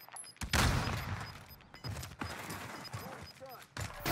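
Assault rifle fire from a battle royale video game, a burst of loud close shots early on followed by scattered bangs under ongoing talk and game sounds.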